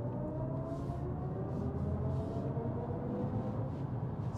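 A BMW i5 eDrive40 electric car accelerates in sport mode, its synthetic Iconic Sound drive tone a steady layered hum with rising harmonic lines over constant road noise, close and even, with no speech.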